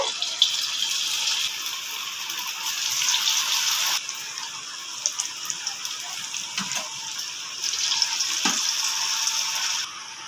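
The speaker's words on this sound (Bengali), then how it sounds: "বাকিগুলো একইভাবে ভেজে নেব" Potato snacks frying in hot oil, a steady bright crackling hiss throughout with a few brief knocks and shifts in intensity, close by and without speech.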